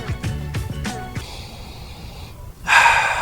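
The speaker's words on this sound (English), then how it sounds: "One more sniff." A person sniffs a pair of New Balance Fresh Foam More v2 running shoes up close, with a few short nasal snorts, then a pause and a longer, louder breathy sniff.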